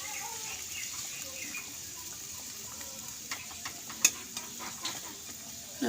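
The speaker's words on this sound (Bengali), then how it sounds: "আবার একটু নাড়াচাড়া করে নেব।" Food in a frying pan is stirred after water is added, making a faint, low sizzle broken by a few light clinks of the spatula.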